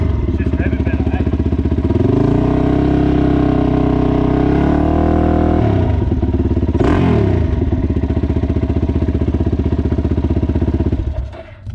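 A Yamaha Ténéré 700 adventure motorcycle idles and revs nearby in a desert setting, its loud steady engine note rising into sustained revs, then dropping and rising again before cutting off at the end.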